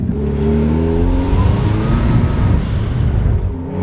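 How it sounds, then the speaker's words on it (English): Stock Mazda Miata engine idling up close, a steady low rumble with even harmonic hum and a slight rise and fall in pitch, no talk over it. "It even just sounds nice, just"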